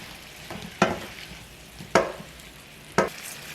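Food stir-fried in a pan with crushed red pepper and tuna sauce gets three sharp, close scraping stirs over a faint steady sizzle, spaced about a second apart.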